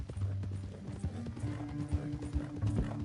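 Horse hooves clip-clopping at a steady walking pace in Red Dead Redemption 2, soft, close thuds over a low ambient bed with no talk.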